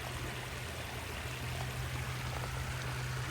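Steady rush of water spilling down a backyard pond waterfall after its flow rate was increased, a continuous broadband splash heard close and alone, with no voices.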